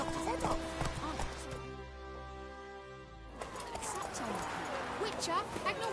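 Roach the horse's hooves clip-clopping in The Witcher 3, a steady trotting patter running under game dialogue with a brief quieter stretch partway through.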